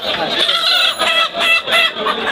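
Poultry at a market stall where ducks and chickens are sold, giving a dense, steady chorus of clucking and honk-like calls with short lulls, fairly loud and close throughout.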